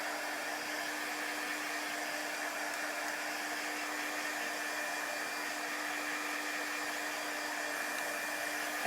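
A hair dryer blowing steadily to dry chalk paint on a craft project, a continuous even whooshing roar with a constant motor hum, close and fairly loud, no talking.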